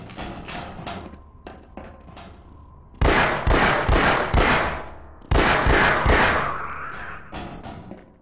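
Gunshots in the Half-Life PC game: a few scattered shots at first, then two loud sustained bursts of rapid automatic fire with sharp individual cracks and some metallic clanging.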